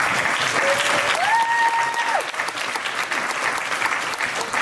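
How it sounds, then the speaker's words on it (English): Steady, dense applause from a summit keynote audience in Los Angeles rolls on continuously at full strength, with a brief whistle-like tone rising over it early on. "And the last thing I'll ask you to do is just give a round of applause to Elsa"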